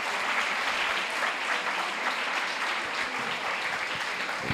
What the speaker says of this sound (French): Un grand applaudissement pour Vincent.